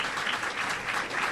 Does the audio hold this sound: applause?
yes